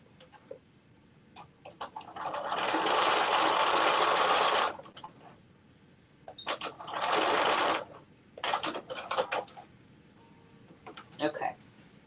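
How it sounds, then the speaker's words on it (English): A sewing machine stitches dress pieces in two sustained runs, then a few short bursts, close and fairly loud with quiet gaps between. "I just stitched that part like right there"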